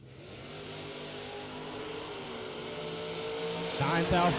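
A Chevrolet S10 and a Vega drag race cars accelerate down the strip, engine roar rising from a distant drone to a louder rush at the end, heard from the sidelines with a faint voice nearby.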